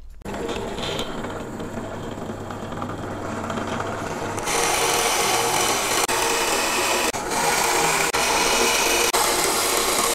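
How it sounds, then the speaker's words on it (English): Whirring machine noise builds into a louder, steady grinding and rasping as a pillar drill bores halfway into a wooden board, with a few sharp clicks near the end. "I've just set up my pillar drill"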